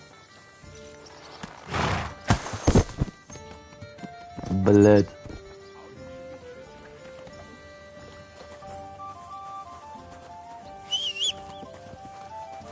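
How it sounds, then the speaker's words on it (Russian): A horse in the video game Kingdom Come: Deliverance 2 whinnies and its hooves clip-clop, mostly early on over soft game music, while a player talks. "Це ж моя лошадь?"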